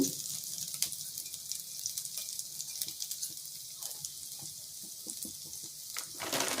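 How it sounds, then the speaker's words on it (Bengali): Cumin, ginger, dried chilli and hing tempering sizzling in hot oil for a Bengali drumstick jhol, a steady soft crackle with scattered pops and small clicks, no voices. "জিরে ফোড়ন, আদা ফোড়ন আমি দিয়ে দেব। শুকনো লঙ্কা, একটু হিং"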